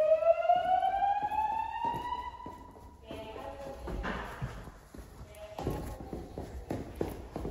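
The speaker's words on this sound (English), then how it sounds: "This is a test of the fire alarm system." An electronic fire alarm whoops with rising sweeps during a dorm fire alarm test, then a recorded voice speaks over repeated alarm tones and scattered footsteps.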